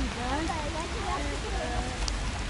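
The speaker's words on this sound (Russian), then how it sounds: "Дождь фигачит." Heavy rain pours down at a zoo as a steady, close broadband hiss that fills the whole stretch, with people talking over it.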